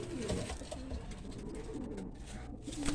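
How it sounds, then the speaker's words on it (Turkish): Pigeons in a Turkish pigeon loft coo with low, throaty rolling calls that repeat close by over a faint background hum. "Şöyle kuşları göstereyim size tekrardan da daha kuşumuz var."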